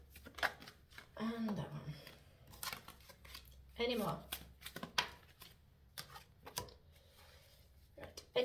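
Playing cards are shuffled indoors in a few brief, quiet riffling bursts, with people talking softly between them.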